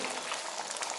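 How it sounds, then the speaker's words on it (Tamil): A thick egg curry bubbles and simmers steadily in a pot, a dense hissing burble heard up close. "கொதிக்குது"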